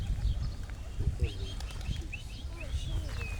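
Tumbler pigeons, some weakened by rain and wind, give soft coos and faint chirps close by, with low thumps and rustling underneath, all fairly quiet.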